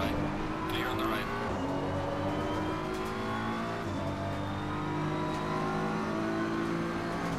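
Race car engines drone steadily in Assetto Corsa Competizione during a lobby race, with a nearby car passing along with pitch sweeps, loud and continuous; a voice talks over the engine noise.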